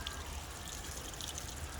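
Water running steadily from the drain of an Atwood RV water heater, a continuous soft trickling stream at close range with no pauses, fairly quiet and alone.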